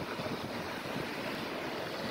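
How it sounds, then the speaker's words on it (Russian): Steady roar of sea waves at English Bay, Vancouver, mixed with strong wind buffeting the microphone, constant and loud throughout. "И волны. Ветер сегодня."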